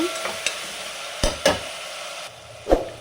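Onion and capsicum frying in a pan for godhi nuchina upma, with a spoon scraping and stirring in a few distinct strokes over a low steady sizzle, close up with no talking.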